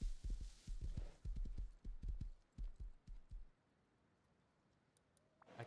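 Horse hooves clip-clop in the survival video game Rust, a steady run of close, loud hoofbeats for about three and a half seconds before falling away to quiet.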